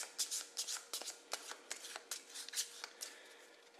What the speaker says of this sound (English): we're going to go ahead and shuffle these